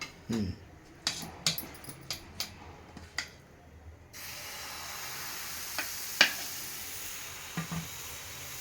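Dosa batter fries in oil on a hot pan, with sharp sizzles and scraping clicks first, then a steady, close hiss of frying with occasional spatula taps.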